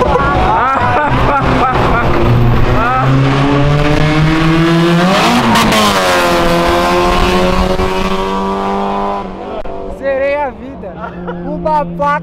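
Audi A4 launching hard at a car meet, a loud engine roaring and climbing in pitch for several seconds before fading, with excited voices and crowd chatter around it.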